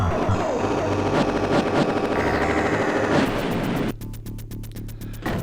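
Dense, continuous retro shooting from the DOS game Galactix: rapid machine-gun-like bursts with a chaotic, noisy wash, giving way near the end to a rhythmic string of evenly spaced sharp shots.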